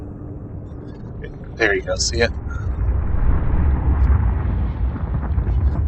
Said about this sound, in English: That roaring sound you hear is actually a geothermal vent right there.